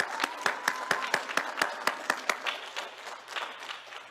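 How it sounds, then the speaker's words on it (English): An audience at an intercollegiate Black History scholar bowl competition gives a short burst of applause, with a rhythmic group clap at first that loosens into scattered clapping. "give you an appreciation applause for doing a great job"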